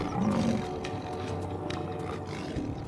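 A lioness roars in the wild near cattle, a deep, loud, sustained growling roar that rises at the start and rumbles on for several seconds, with no speech over it.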